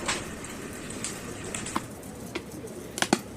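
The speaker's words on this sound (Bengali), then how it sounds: "তো এখানে কিছু সবজি কালারের কবুতর দেখতে পাচ্ছেন" Pigeons at a Rajshahi loft coo softly in the background under a steady hiss, with a few brief clicks and taps near the end and no talking.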